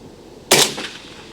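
A single sharp rifle shot from an AK firing Hornady American Gunner 7.62x39 ammunition cracks outdoors at a range, followed by a short fading echo.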